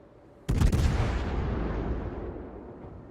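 A heavy naval gun salvo from the cruiser Hindenburg in the game World of Warships fires as one loud, sharp boom, then rolls off in a long rumbling decay.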